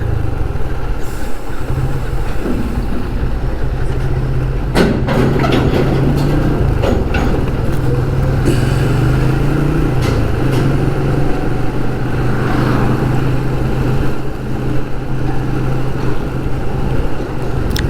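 Steady rumble of heavy road traffic with engines droning and idling close by, occasional passing vehicles and faint clatter over a constant low hum.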